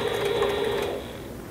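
A Sailrite Leatherwork walking foot sewing machine with a leather point needle and 92 weight thread stitches leather upholstery for a stool. It makes a steady, fast mechanical hum that is close and clear, then slows and fades at the end, with no speech.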